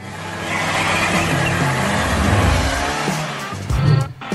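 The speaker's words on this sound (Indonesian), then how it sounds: "Dalam perjalanan yang mengasyikkan dengan mobil barunya" A new car drives along, its engine and road noise a steady loud rumble close by, with a brief rougher surge and tire noise near the end.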